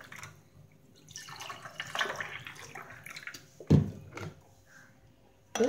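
Cool water is poured into a glass over two ice cubes for instant lemonade, a soft splashing pour rising midway with a couple of sharper clinks and knocks near the end.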